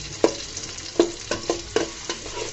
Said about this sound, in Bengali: পেঁয়াজ কুচিগুলোকে আমি ভেজে নেব একটু সুন্দর গন্ধ আসা পর্যন্ত।